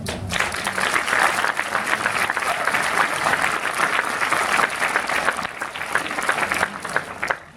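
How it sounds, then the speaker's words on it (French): Steady, dense applause from a cinema audience for the crew and producers of French short films at a film festival, loud and sustained throughout, tapering only at the very end. "donc si vous voulez bien les applaudir"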